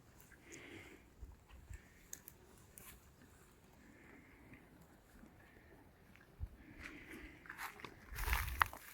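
Soft, close crunching and biting as calves chew hay, a steady quiet munching with a louder rustling burst near the end.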